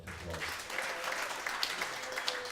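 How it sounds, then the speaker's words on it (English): A crowd claps steadily, a dense patter of applause at moderate distance with no voices over it. "Give him a big round of applause."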